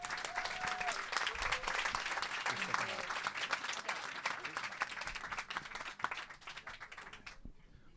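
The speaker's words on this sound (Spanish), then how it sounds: "Un aplauso, por favor." An audience applauds to welcome a speaker at a talk on prehistoric beer, steady dense clapping filling the room for about seven seconds before breaking off abruptly.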